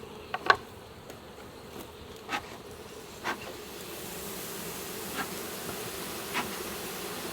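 A low, steady hum of many honeybees buzzing during a honey harvest fills the clip, moderately quiet, with a few nearby bees droning past and faint soft taps.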